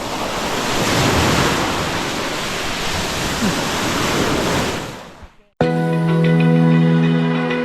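Loud, continuous roar of ocean surf breaking and washing at an island shore near Cebu, then an abrupt cut to a musical passage near the end.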